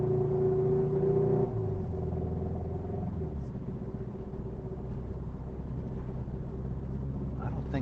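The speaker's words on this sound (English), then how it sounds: "it sounds like it's about a 30-year-old car, but it's not." An old-sounding car engine rumbles at idle, a steady low drone with a tonal hum that drops in pitch partway through and then settles into a softer, even rumble.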